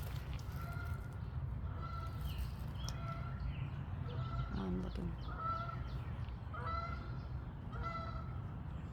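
Geese honking at a distance near a garden with a boardwalk, repeated short calls spread over steady outdoor background rumble.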